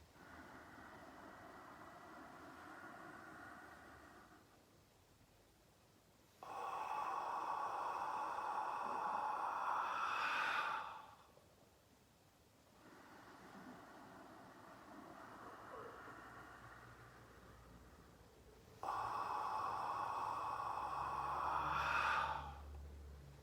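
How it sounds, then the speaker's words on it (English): Slow, long breaths through the nose during Ki-breathing, several soft airy passes that swell and ease in a steady rhythm, close and quiet with no speech. "Now I inhale through the nose."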